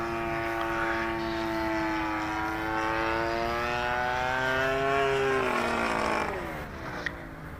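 An Extra 260 sport plane flies aerobatics overhead, its propeller engine a loud, strongly tonal drone that sweeps steadily in pitch, then dips and fades toward the end.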